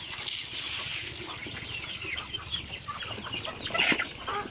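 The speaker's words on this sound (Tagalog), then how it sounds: "Mga alaga tayong manok," A flock of chickens clucks continuously nearby, overlapping calls forming a busy farmyard chatter with a louder squawk near the end.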